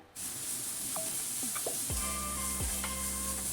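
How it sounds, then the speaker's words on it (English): Chinese radish and dried bean curd stir-fry in a hot pan with a steady sizzle and hiss throughout, and the utensil scrapes and clinks a few times. Nobody speaks. "stir fry. Mix everything well."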